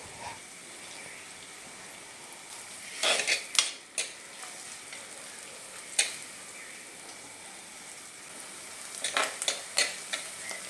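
Sliced onions fry in a pan for a raw plantain curry, giving a steady soft sizzle with several bursts of scraping as a utensil stirs them, close up, with no talking.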